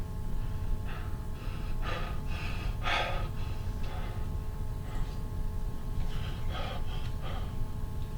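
A lecturer imitates the Cheyne-Stokes breathing pattern with a voice, breaths swelling louder then fading in waves, a pause between clusters, over a steady background hum.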